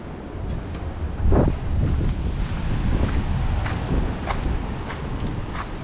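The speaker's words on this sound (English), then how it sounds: "I know it's windy and cold in it." Wind buffets the microphone on an exposed coastal headland near a lighthouse, a continuous rough roar with gusty bursts and a few thumps, no talking.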